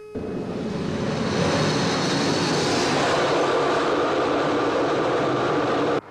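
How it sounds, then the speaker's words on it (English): A jet engine idles in an RAF hush house test facility with a steady, loud, broadband roar and a faint high whine, holding constant throughout before cutting off abruptly at the end. "She's stabilising idle, Brian."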